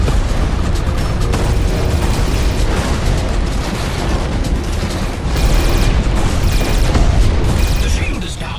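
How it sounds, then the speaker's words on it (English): Missile explosions in the space combat game Everspace 2: loud, continuous booming blasts and crackling bursts layered over a dense rumbling din, swelling stronger near the end. "Attention! Missiles were deployed."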